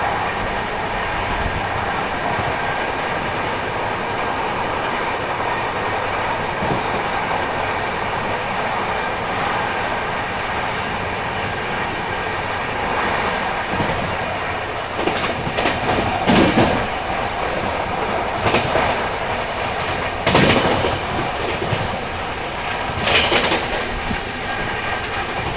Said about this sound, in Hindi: एक्सेलरेट कर रहे हैं हम लोग नर्मदापुरम स्टेशन से। लगभग 110 की रफ्तार अब छू ली हम लोगों ने।